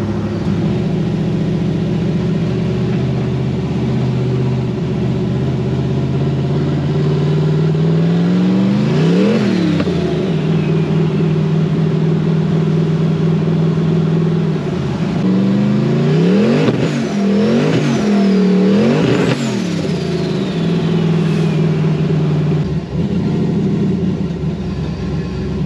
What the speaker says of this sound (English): This car drives beautifully on the road.